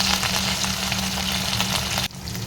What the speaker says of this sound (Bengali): কড়াইতে তেল দিয়ে দিয়েছি তেলটা গরম করে মাছটা ভাজতে দিয়ে